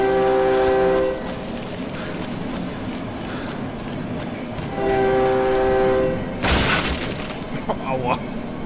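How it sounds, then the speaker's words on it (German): A train in the horror video game Cry of Fear runs over the player, with a loud sustained horn blaring twice over rumbling rail noise and a sharp crashing impact in between. "Mich hat der Zug überfahren, ja?"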